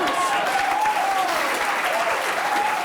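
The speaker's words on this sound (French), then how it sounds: "on peut l'applaudir, bravo" Sustained applause from a crowd, dense clapping throughout with a voice faintly audible over it.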